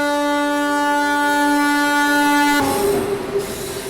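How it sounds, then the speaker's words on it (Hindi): A goods train passes near a small railway station with a loud sustained horn blast that cuts off, followed by heavy rumbling of wagons close by. "गुड्स ट्रेन है।"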